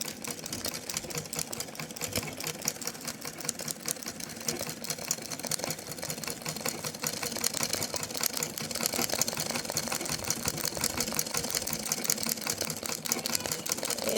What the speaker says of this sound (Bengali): এরকমভাবে আমি খুব ঘন ঘন করে আস্তে আস্তে আমি মেশিন চালিয়ে এটা ভরাট করব।